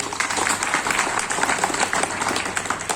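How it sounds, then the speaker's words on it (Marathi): A crowd at an outdoor village public meeting claps loudly to welcome guests, a dense, slightly rhythmic round of applause holding strong throughout without any speech. "या सगळ्यांचं आपण परत एकदा जोरदार टाळ्या वाजवून स्वागत करू."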